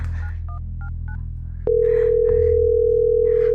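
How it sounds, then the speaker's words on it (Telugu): A phone keypad beeps through a quick string of dialing tones, then a steady, unbroken line tone takes over and holds close and clear. "రమేష్ గడికి ఫోన్ చేద్దాం."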